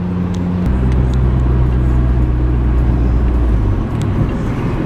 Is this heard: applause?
no